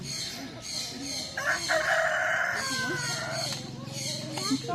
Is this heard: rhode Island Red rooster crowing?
yes